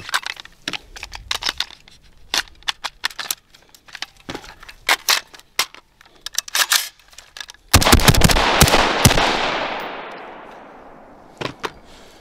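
Metal parts of a firearm click and clack during quick assembly with a rapid-attach buttstock adapter, then a single loud close gunshot booms and its echo decays over a couple of seconds, followed by a few more handling clicks.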